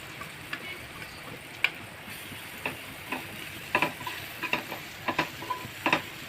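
Tomato and red chili masala frying in oil in a pan for egg masala, with a soft steady sizzle under scattered sharp clicks and scrapes of stirring, close and fairly quiet.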